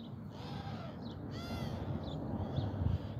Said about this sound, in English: Yeah, that's a bird.